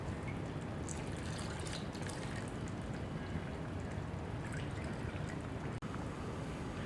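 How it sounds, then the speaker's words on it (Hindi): Milk poured into a bowl for white chicken biryani, a steady close liquid pour and trickle running without pause, with no voices. "और ये दूध भी हम इसमें डाल देंगे।"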